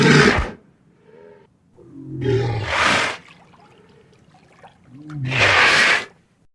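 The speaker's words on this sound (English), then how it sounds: "I grabbed some walrus sounds from online" A walrus groans in an unaltered sample, three loud, drawn-out roaring bellows separated by quieter gaps, with a faint splash of water alongside.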